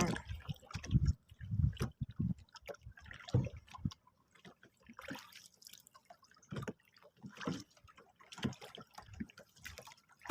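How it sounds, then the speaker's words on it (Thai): Small, irregular drips and gentle water lapping around a boat anchored mid-river while shrimp fishing, faint and close, with quiet gaps between the splashes. "ระหว่างกลางแม่น้ำ"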